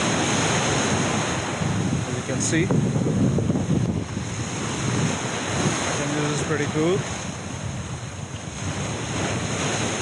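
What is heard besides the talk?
ocean waves at the edge of an island, Siargao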